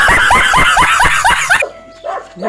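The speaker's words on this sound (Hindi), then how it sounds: "देखो कुत्ता था भाई।" A dog barks and yips in a rapid run of about eight sharp barks, close and loud, at a grandmother's house, then stops, leaving quieter faint sounds.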